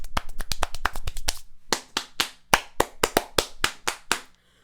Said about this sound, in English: I'm clapping my hands right now.